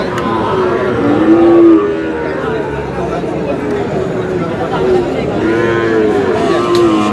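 Sahiwal bulls at a busy cattle market moo repeatedly in long low calls, close and loud, with people talking and crowd chatter all around.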